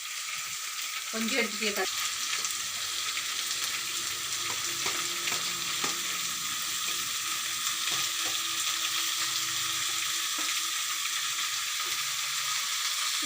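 Eggplant pieces fry in hot oil with garlic, giving a steady, even sizzle throughout, with occasional clinks and scrapes of stirring, close by, and a brief spoken remark near the start.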